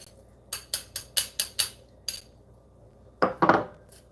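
A ladle stirring Ilocano pinakbet vegetables in a metal cooking pot, a run of six quick clinks against the rim followed by a pause and then a louder scraping stir.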